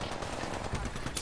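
Rapid gunfire in the video game Apex Legends on the Olympus map, bursts of shots running under a player's talk.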